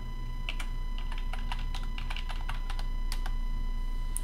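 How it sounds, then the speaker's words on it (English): Someone types a login name on a computer keyboard: a quick, uneven run of close, crisp key clicks over a steady low room hum, with no one speaking. "I'm going to type in service tech one."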